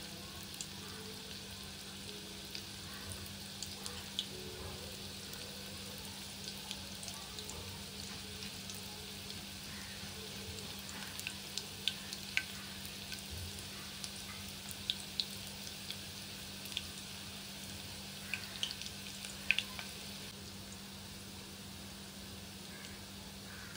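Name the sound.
soybeans frying in oil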